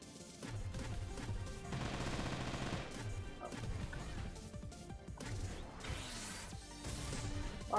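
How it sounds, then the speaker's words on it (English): A robot fires missiles in a Rockem Sockem Robots video game, a dense run of rapid launches and crashing impacts that goes on continuously at moderate loudness, with metallic clatter and bursts layered together. "Let's do a quick test to see how those missiles are."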